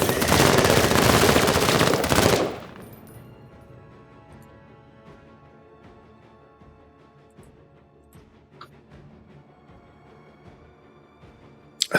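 A burst of dense, loud machine gun fire from the tactical game Menace rattles for about two seconds, then cuts to quiet background ambience with faint scattered clicks and no speech.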